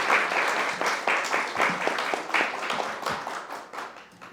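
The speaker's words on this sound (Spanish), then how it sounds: "le pido un aplauso para él" Audience applause for a guest speaker at a legal conference, steady dense clapping sustained for about four seconds, fading slightly toward the end.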